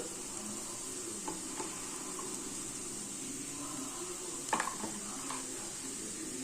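Spices with red chilli powder and turmeric frying in a pan, a quiet steady sizzle with a few soft clinks and stirring taps, one sharper knock near the end.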